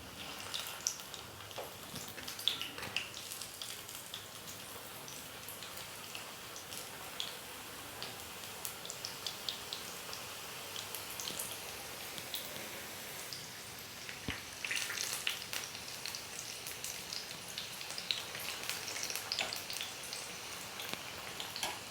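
Veg spring rolls made with homemade sheets fry in a pan, giving a steady close crackle of fine pops and ticks that keeps going for the whole stretch, with no voices.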